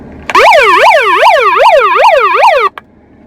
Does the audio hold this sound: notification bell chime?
no